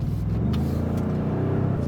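A 2019 Ford Expedition SUV with 375 horsepower pulls away hard from a stoplight, its engine giving a steady, droning roar with low rumble inside the cabin throughout.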